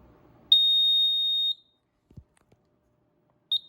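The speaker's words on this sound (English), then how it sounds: "I have to push the silence button to silence the buzzer" A piercing, steady electronic buzzer tone from a Grinnell/Autocall C-2224 fire alarm panel holds for about a second, then stops; a soft click follows and a brief beep returns at the end.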